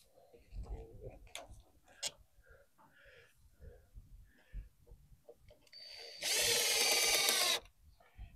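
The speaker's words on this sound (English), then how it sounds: "I'm going to put this screw right in here to the wood" A power drill drives a screw into wood outdoors for a Starlink mount, a loud steady whir lasting just over a second near the end, preceded by scattered clicks, handling knocks and soft murmuring.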